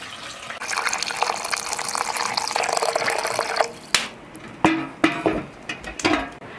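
Tap water gushes steadily into a pot for beef tea, made to an 1807 recipe, for about three seconds. A few loud, close knocks and clanks of the pot follow, with no talking.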